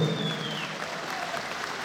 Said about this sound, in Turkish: Kendisine kocaman bir alkış istiyoruz.